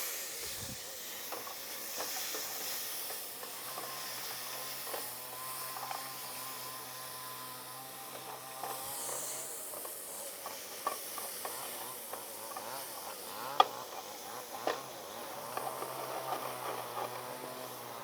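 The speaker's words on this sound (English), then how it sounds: "my chicken is boiling really nicely" A pot of chicken and vegetables boiling on a stove, giving a steady hiss and bubbling simmer with occasional clinks of a spoon against the pot, close and moderately quiet throughout.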